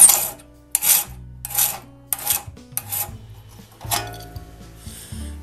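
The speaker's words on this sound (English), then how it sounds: "File off that raker tooth." A hand file rasps across the raker tooth of a one-man crosscut saw in about six distinct strokes, close and fairly loud, each a short scraping burst separated by brief pauses with faint metallic ringing.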